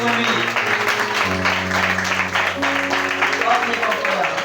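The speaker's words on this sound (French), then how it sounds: "Acclamons très fort pour lui." An audience applauds at a Sunday school gathering: steady, continuous clapping from a crowd, with a voice and music-like tones running underneath throughout.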